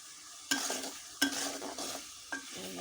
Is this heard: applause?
no